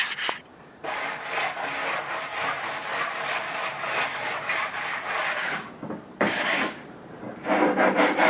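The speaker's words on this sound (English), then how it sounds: "Sand off the rough edges beforehand" A wooden garden bridge's rough edges being sanded with a sponge block: steady, close rasping strokes in continuous runs, pausing briefly twice before resuming.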